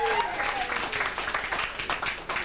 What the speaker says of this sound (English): But give yourselves a round of applause.